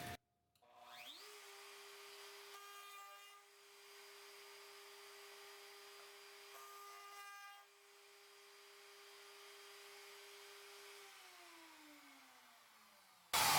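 A CNC router cutting a piece of wood, a steady high-pitched motor whine with a faint rising pitch at spin-up, a brief dip midway, then a sustained close, loud cutting drone with no talk.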